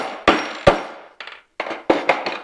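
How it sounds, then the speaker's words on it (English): An old snowmobile clutch cam arm bushing is punched out with about six sharp hammer strikes on a tool, some ringing and some dull, close and distinct with short pauses between blows. "punch our old bushing out"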